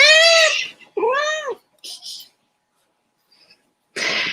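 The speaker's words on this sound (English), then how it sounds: "There are kitty cats in the garden and they're meowing." A cat meows twice up close, loud and drawn out, followed by short breathy snorts, a pause, and a final hiss-like puff.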